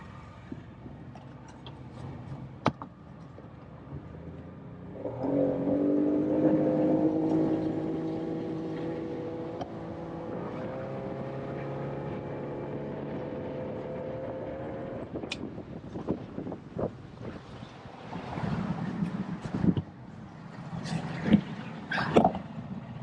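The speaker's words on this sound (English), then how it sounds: "It's a two-cycle engine. It's pretty quiet." A 50 HP Tohatsu two-stroke outboard motor hums steadily at a moderate, even pitch for several seconds, then fades into clattering and scattered knocks nearby.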